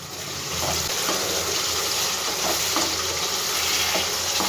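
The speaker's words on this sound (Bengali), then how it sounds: "আরও আমি 2 থেকে 3 সেকেন্ডের মতন মশলাটাকে একটু ভেজে নেব।" Spice paste (masala) frying in oil for onion curry: a steady, close sizzle and crackle, with faint scraping from stirring running through it.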